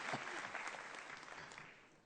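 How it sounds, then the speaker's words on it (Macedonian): Applause from an audience greets team B at a quiz final in the Universal Hall, a faint, steady patter of clapping that sounds distant and fades slightly toward the end. "уште еден аплауз за овој прекрасен тим Б"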